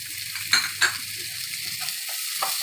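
Omelette ingredients with tomato sizzle in a pan over high flame, a steady frying hiss broken by two sharp utensil clinks near the start and a few light scrapes later.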